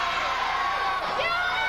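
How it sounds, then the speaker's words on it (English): Wrestling crowd at a ladies' pay-per-view show cheers and whoops loudly and steadily throughout, a dense wash of voices that briefly dips and then swells again. "The crowd says yes. The crowd says do it again."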